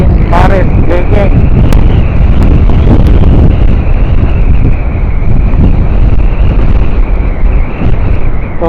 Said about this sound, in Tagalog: So guys, malakas yung hangin.